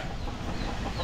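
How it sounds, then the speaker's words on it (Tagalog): Several chickens cluck softly among a group of fowl at a Philippine house site, brief busy clucking over a low ambient murmur. "Dami ng manok ng kilone"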